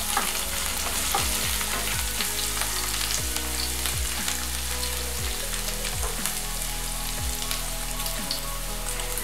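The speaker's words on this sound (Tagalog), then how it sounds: "Ngayon naman atin nang ilagay ang ating bawang." Garlic sizzles with meat in a pan for Filipino ginisang mongo, a steady close frying crackle with repeated utensil scrapes and stirring knocks recurring every second or so.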